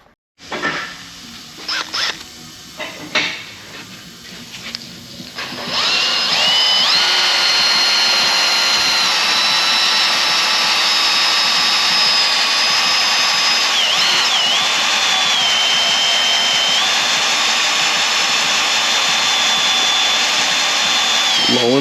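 A power drill works at drilling out a broken stud during an engine SAI repair, starting with a few short bursts and taps, then running loud and continuous for about sixteen seconds with slight pitch dips as the bit bites.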